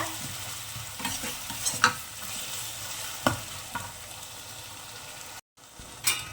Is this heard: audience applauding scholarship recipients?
no